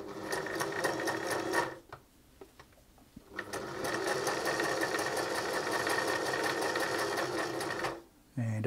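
A Singer 631G sewing machine runs a chainstitch seam in a steady, rapid whirring rhythm, close and loud, with a brief pause and a few stops between bursts of stitching.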